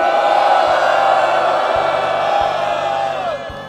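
A large crowd at an anti-war peace rally in cold weather lets out a loud closing cheer. The sustained roar of whoops and yells fades slightly toward the end.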